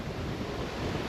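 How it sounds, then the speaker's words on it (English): Strong wind buffets the microphone while surf washes steadily against a lake beach with whitecaps, a loud, continuous roar with no pauses. "It is quite windy."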